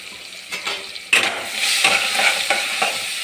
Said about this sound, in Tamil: நல்லா வதக்கி விடலாம்